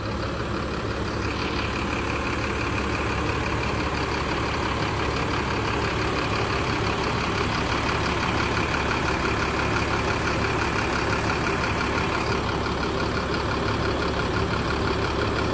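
An ALS intercity bus engine idles with a loud, steady diesel rumble throughout, a constant drone with a faint higher whine, while passengers board before departing for Medan.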